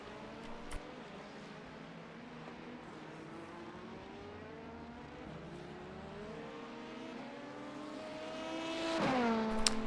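Race car engines whine and shift in an IMSA racing video game, a sustained mid-level drone with rising pitch sweeps that swell into a louder close pass near the end, with no talking.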